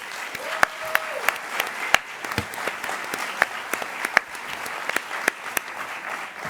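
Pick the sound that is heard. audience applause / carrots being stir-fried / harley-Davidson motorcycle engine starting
audience applause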